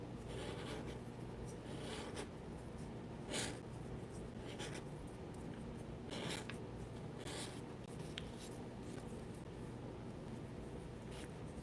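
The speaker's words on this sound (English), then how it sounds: "we will take a bit of sandpaper and roll our paper stick like this" A paper blending stick rolled against sandpaper during a whispered painting session, producing soft, close, repeated scratchy rasps that come in short strokes over a steady hiss, with no talking.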